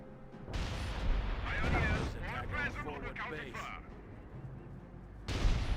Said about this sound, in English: M2 is firing away against the bunkers.